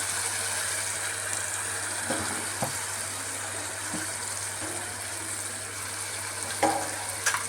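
Turmeric and tomato fry in oil for kabuli chana curry, a low steady sizzle with a constant hum beneath and occasional clinks and taps of a utensil against the pan, no voices.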